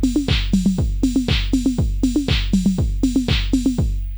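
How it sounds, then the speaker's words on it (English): A looping synth drum pattern from four drum channels running mono through a filter, with punchy kicks, pitched toms and snare hits, repeating at a steady mid-tempo groove. "the 4 drum channels that are also running mono through the tech filter."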